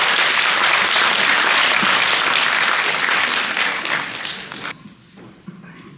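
Steady, loud audience clapping at a forum on disability residential facility reform after a women's choir performance; dense applause for about four seconds, then tapering off and fading into near quiet.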